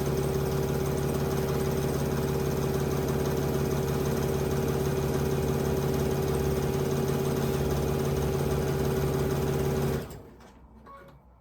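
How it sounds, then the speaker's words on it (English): A sewing machine stitching quilt half-square triangles hums loudly and evenly with a fast, steady needle drone for about ten seconds before stopping, followed by brief handling sounds. "I am going to sew on this side and on this side, both sides, on both lines."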